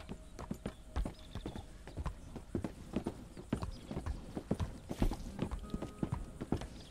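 Horse hooves clip-clop in Red Dead Redemption 2, a rapid run of distinct, hard thuds and clacks from a trotting or galloping horse, fairly close and moderately loud, with a faint whinny and no talk over them.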